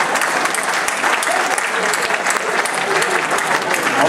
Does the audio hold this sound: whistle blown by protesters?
no